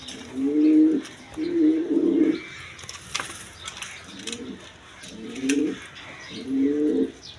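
Domestic pigeons of several breeds, kept for sale, coo in repeated low throaty bursts, about six phrases at a steady rhythm, close and fairly loud, with faint chirps and small mechanical clicks between.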